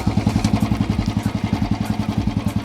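Close Royal Enfield Classic 350 motorcycle engine with an aftermarket silencer exhaust idling with a loud, rhythmic thumping exhaust beat, steady and even throughout.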